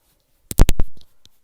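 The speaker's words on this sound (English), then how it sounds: "you can hear my earring just clanking against my microphone" An earring clanks against a close microphone: a quick cluster of three or four sharp, loud knocks, followed by a couple of faint ticks.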